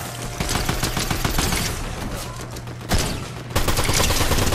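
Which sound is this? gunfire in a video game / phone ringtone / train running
gunfire in a video game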